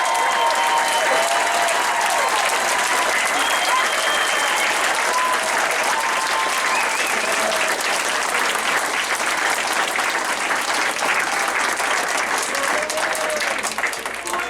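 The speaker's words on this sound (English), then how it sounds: "let's give this newest group of Palmer West chiropractic interns a very large round of applause" Big, continuous applause fills the hall at a chiropractic intern pinning ceremony on the Palmer West campus, dense crowd clapping holding steady for the full stretch with a few voices mixed in.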